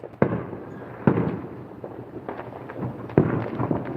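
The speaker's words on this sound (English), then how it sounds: "And these are legal fireworks, totally legal." Legal consumer fireworks burst in a Las Vegas neighborhood on the Fourth of July, several sharp cracks and pops at uneven intervals with crackling tails, moderately distant and heard alone.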